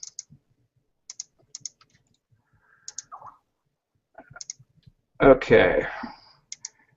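Computer mouse clicking during a corporate training session, heard as scattered sharp, light clicks, single and in quick pairs, spread across the clip. A person briefly speaks near the end.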